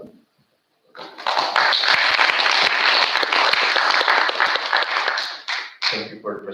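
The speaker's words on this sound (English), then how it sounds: "Thank you for the applause." Sustained applause from an audience after a presentation at an association meeting, a loud, steady wash of clapping lasting several seconds before fading, followed by a voice starting to speak.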